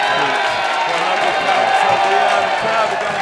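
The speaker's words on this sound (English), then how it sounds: "crowd are going absolutely berserk here" A crowd cheers and roars continuously at a squash league final, a dense, loud wall of whoops and shouting with some clapping, close and sustained throughout.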